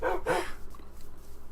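Dogs barking in the Minecraft video game, a couple of short bright game-style barks close together near the start, then quieter ambient game sound.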